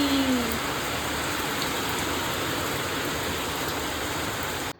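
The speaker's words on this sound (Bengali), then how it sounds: "কি সেই বৃষ্টি!" Rain falls steadily in a constant, even hiss, moderately loud and close, with no talking, ending abruptly.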